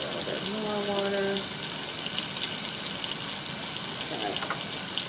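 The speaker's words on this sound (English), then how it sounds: "Maybe a little bit more water." Tap water runs steadily into a sink while lab glassware is rinsed after a benzaldehyde oxidation, a continuous close hiss with a brief tonal whine near the start and no talking.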